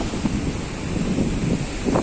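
Incoming tide at the Digha Nature Park ghat after heavy rain, waves washing in as a loud, steady broadband roar with soft swells, buffeted throughout by heavy wind noise on the microphone.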